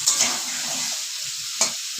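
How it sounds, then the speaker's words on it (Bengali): Potato, eggplant and carrot sizzle and hiss in a hot pan, with a couple of sharp utensil scrapes as they are stirred. "এবার সবজিগুলো দিয়ে দিলাম আলু বেগুন আর গাজর"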